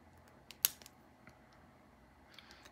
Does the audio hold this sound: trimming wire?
yes